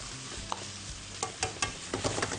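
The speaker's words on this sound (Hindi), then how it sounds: "हमने चिकन के जो छोटे पीसेस से वो शामिल कर लिए हैं, उसको तेजी से भूनना है" Small chicken pieces fry briskly in a pan with cooked onion, tomato and garlic, a soft steady sizzle broken by a few sharp scraping stir strokes near the end.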